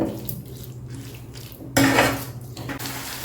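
Ground sesame, dried red chilli and spice powder being stirred into gongura rice in a pan, with close scraping and clinking of a spoon against metal and one louder clatter midway, no voices.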